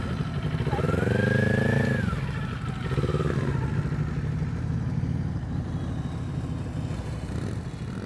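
A motorcycle engine idles and putters steadily nearby during slow-speed riding practice, with a brief rev and a rising whine early on before it settles into a low, even rumble.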